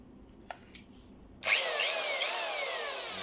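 Cheap Japanese-branded power drill from a budget tool set, a couple of small clicks then the motor whirs up abruptly into a loud, steady high-pitched whine that holds close for the rest of the moment, no voices.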